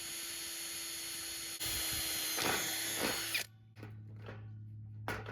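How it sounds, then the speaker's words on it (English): A power drill whirs steadily, its pitch shifting as it bores a rivet hole, then stops, followed by a few short bursts and handling noises. "Now I need to drill a hole in there, same size as that rivet, just slightly over."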